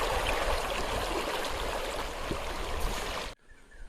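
A river flows steadily with a dense, even rush of water, close and constant for several seconds before it suddenly cuts off; no voices over it.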